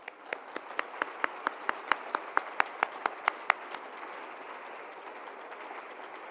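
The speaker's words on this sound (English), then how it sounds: "So let's give our 5 honorees in research another round of applause." At a university faculty awards ceremony, a sparse audience gives research honorees a short round of applause, with distinct individual claps ringing out rhythmically over a soft clapping bed before fading away.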